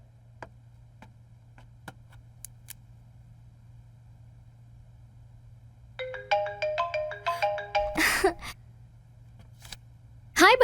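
A phone ringtone from an incoming call in a Hindi-dubbed film scene plays as a bright, looping electronic melody after a long stretch of quiet hum, growing fairly loud for a couple of seconds before a sudden louder burst.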